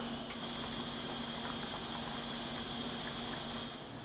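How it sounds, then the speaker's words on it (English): A quiet, steady bubbling rumble of a pot of tomatillos at a boil, continuous and even, with a faint hum underneath and no voices. "I'm bringing everything up to a boil right here."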